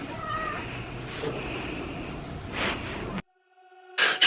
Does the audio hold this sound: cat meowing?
yes